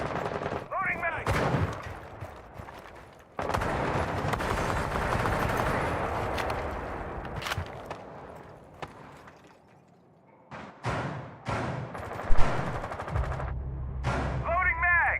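Gunfire from a Rainbow Six Siege tournament match: rapid automatic bursts and sharp single shots cluster in quick exchanges, with players talking over the action in between.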